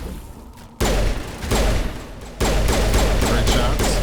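Gunfire in the video game Mass Effect: dense bursts of rapid shots and booms in an ongoing firefight, loud and close, swelling in two sudden surges.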